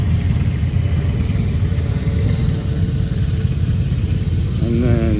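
A BMW motorcycle engine running at a European motorbike event in Columbus, Ohio, a steady close low rumble throughout with a brief rev near the end.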